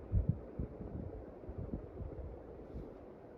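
A Benton flush mount ceiling fan runs with a quiet, low hum and a soft, uneven throbbing pulse, faint and steady with no voices.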